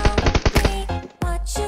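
Rapid automatic gunfire rings out in PUBG Mobile, a loud burst of closely spaced shots followed by a short pause and then more heavy shots.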